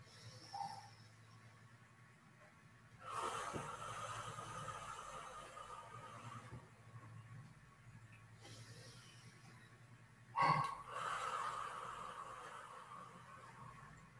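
Slow, soft breathing in and out during a Qi Gong grounding posture, heard as faint airy swells in an otherwise quiet room, with two longer exhalation-like rushes and no talk.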